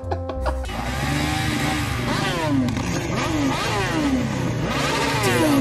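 A Royal Enfield Bullet motorcycle engine revs loudly and close, its pitch climbing in repeated rising sweeps over a steady rumbling idle.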